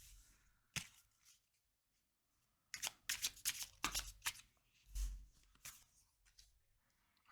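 Tarot cards shuffled by hand in quick riffling bursts, faint and close, with short pauses between rustling passes and no talking.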